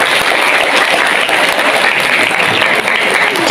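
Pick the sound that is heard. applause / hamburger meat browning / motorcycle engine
applause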